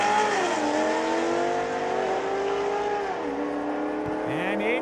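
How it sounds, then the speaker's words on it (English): A 2008 Corvette launches off the drag strip line at a raceway, its engine rising loudly through several gears with sweeping pitch climbs and shifts, while an announcer talks throughout. "Corvette leaving the line"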